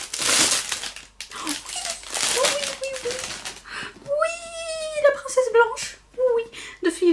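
Paper gift wrapping crinkles and tears loudly as a gifted book is unwrapped, with bursts of rustling close by while someone talks over it.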